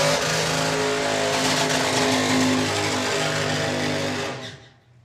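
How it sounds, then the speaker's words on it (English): A supercharged outlaw drag racing car roars through a smoky burnout at a drag strip, very loud and sustained, then the engine note drops away near the end. "Mr. Dale, ready to put in a big smoky burnout."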